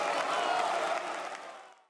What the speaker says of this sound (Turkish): tüm genel kurul uzun süre ayakta alkışladı